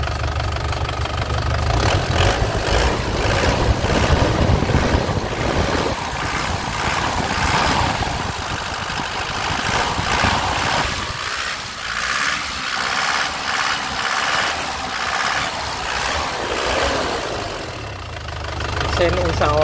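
A black 2010 LV Turbo engine runs at a steady idle after starting, a continuous close-up rumble with a light knocking texture, while voices talk over it throughout.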